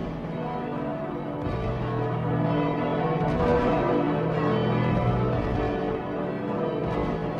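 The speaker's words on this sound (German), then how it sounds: "Unter Glockengeläut und Kanonendonner wurden die Gesandten des Mars in allen Hauptstädten Europas jubelnd begrüßt." Church bells ring steadily and dense in a German radio drama, a full pealing layer of overlapping tones that stays loud and continuous throughout, celebrating envoys from Mars arriving in a European capital.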